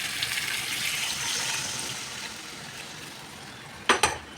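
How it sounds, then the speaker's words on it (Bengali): Water poured into cauliflower curry frying in oil in a pan: a hissing sizzle that fades gradually, then two quick sharp clinks of a utensil against the pan near the end. "এবার আমি জলটা দিয়ে দেবো"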